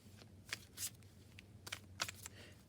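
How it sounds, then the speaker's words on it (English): Quiet riffling and soft slaps of a tarot-style affirmation card deck being shuffled, a few short bursts spaced out over a couple of seconds. "So do a few shuffles here."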